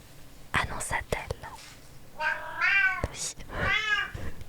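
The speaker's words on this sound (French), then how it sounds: "il y a mon chat qui a envie de jouer visiblement" A pet cat meows a couple of times with drawn-out, wavering cries, close by in a quiet room, following soft whispered reading.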